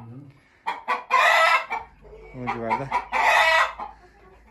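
Village chickens and roosters in a coop, with loud crowing calls and clucking close by, rising in two long bursts; a person speaks briefly as well.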